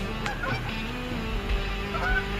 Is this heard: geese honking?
yes